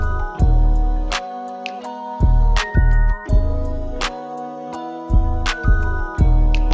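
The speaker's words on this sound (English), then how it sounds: "I made the keys high, but I pitched the vocals down low, so it sounds like this." Beat outro with bright high-pitched keys over deep pitched-down vocal chops and heavy bass hits, pulsing in a steady loud rhythm with brief drops between phrases.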